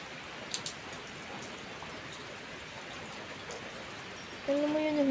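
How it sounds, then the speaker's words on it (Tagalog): Steady rain falls on a sunny day as a constant, even hiss of drops on surfaces, with a voice rising briefly over it at the very end. "Umuulan siya pero maaraw."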